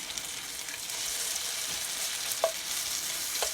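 Zucchini pancakes fry in hot oil with a steady, close sizzling crackle, broken by a few brief clicks and knocks of a utensil against the pan.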